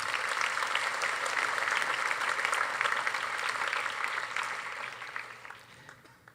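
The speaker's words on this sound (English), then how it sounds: "A round of applause for them both." Audience applause at a class night ceremony, sustained crowd clapping that holds steady, then thins and fades away toward the end.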